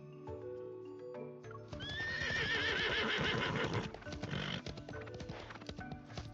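Video-game horse galloping through city streets with a sharp whinny, hoofbeats loud and close over a musical backdrop before fading.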